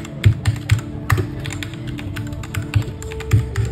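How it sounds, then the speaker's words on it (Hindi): Keys clatter on a Portronics Hydra 10 wireless mechanical keyboard, a close series of sharp clicky strokes in uneven bursts with a few louder taps, with no talking. "तो अभी सुनते हैं ये कैसा साउंड करता है जब हम टाइप करेंगे।"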